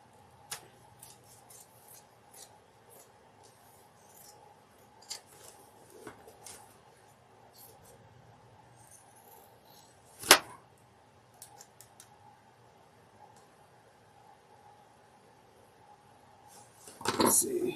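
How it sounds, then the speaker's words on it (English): Scissors trim a paper sewing pattern in quick, scattered snips with soft paper rustle; a sharp clack lands near the middle and a louder burst of cutting and handling comes at the end. "I'm going to trim everything real quickly"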